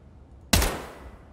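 A single sharp gunshot cracks out loud and close in the Escape From Tarkov shooter, then fades in a short ringing tail over a quiet background.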